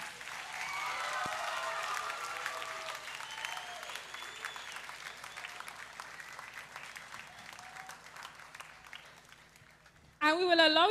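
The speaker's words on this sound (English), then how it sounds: "Give yourselves a round of applause." Audience applause rings out at a 2024 secondary school graduation ceremony in San Juan, a sustained wash of many hands clapping that slowly fades over about ten seconds, ending with a short burst of other sound.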